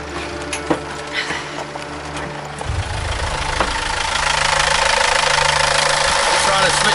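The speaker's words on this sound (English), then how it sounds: "Can't stop the engine." A sailing boat's engine runs on and cannot be shut off, a steady mid-pitched idling drone that thickens and grows louder partway through, with a few clicks and knocks on top.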